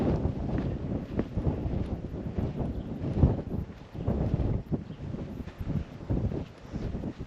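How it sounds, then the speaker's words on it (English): Gusting wind buffets the microphone on a hilltop hiking trail at Te Mata Peak, a steady rushing roar with rising and falling surges that continues throughout without a break. "The wind's picked up"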